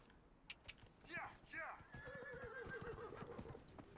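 A horse in the game Dragon Age: Inquisition whinnies twice in sharp, wavering neighs, then gallops with a rapid clip-clop of hooves under a long sustained whinny, while someone talks quietly over it.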